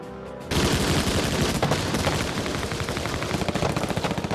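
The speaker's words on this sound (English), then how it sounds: "racing across the beach under heavy machine gun fire" Heavy machine gun fire sweeps a beach during a wartime landing, bursting in loud and dense after a brief quiet moment and rattling on continuously as rapid overlapping shots.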